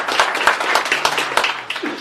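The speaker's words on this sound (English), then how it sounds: "give a nice round of applause to our police" A crowd at a community event claps together in dense, steady applause, fairly loud and close.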